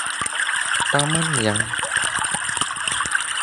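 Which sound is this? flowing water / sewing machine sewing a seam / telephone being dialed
flowing water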